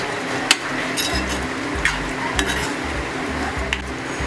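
A spoon stirs an eggplant and potato curry with salt in a pan, scraping and clinking against the metal in a steady rhythm over a low sizzle, close up with no talking.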